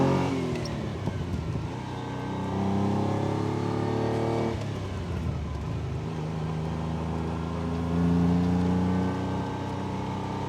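A Ferrari Dino 246 GTS revs and accelerates on an open road, its engine note climbing through two strong pulls with a gear change between them, loud and close with no voices.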